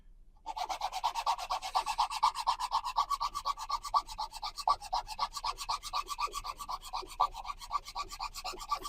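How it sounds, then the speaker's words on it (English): A hand file rasps steadily back and forth across a stratacite piece in fast, even strokes, close and continuous for several seconds, with no talk. "one nice thing with dremeling and filing is you don't really need to sand as much"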